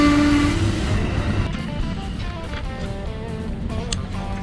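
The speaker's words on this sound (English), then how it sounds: "We're right next to the Amtrak train here in Princeton" An Amtrak train in Princeton, Illinois passes close by, beginning with a brief horn tone and continuing as a loud, steady rumble with faint rhythmic clatter from the rails.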